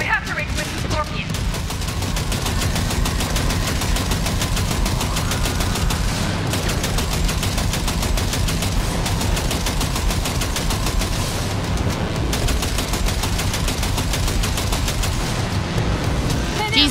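Sustained machine gun fire in the Cyberpunk 2077 video game, a rapid, dense rattle of shots that runs continuously for over fifteen seconds, loud and close, with shouting voices over it.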